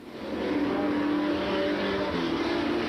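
Late model super stock race cars roar along a short oval back straightaway, engines loud and sustained at full throttle as two cars run side by side, with a steady rumbling drone.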